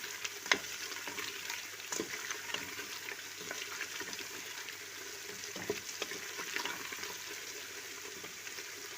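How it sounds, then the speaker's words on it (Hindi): Meat and cauliflower with chopped ginger roast in a pan for a Pakistani-style gobhi gosht. A faint, steady sizzle is broken by soft scraping stirs at irregular intervals. "ये हमारे गोश्त की भुनाई हो रही है, आप देख सकते हैं।"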